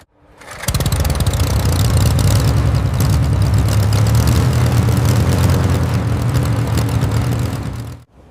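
A World War II P-51 Mustang engine catches after a short silence and settles into a loud, rough, steady piston roar with a rapid pulsing beat, cutting off abruptly near the end.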